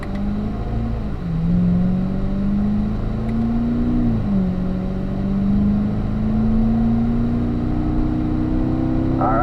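A car engine accelerates steadily in low gears up toward third, its pitch climbing, dipping at a gear change near the start and again around four seconds, then rising smoothly; loud and close, with no talk.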